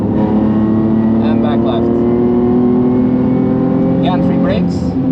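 A race car engine drones steadily and loudly throughout, holding a sustained tone while accelerating on a track after a rebuild, with a driving coach talking over it.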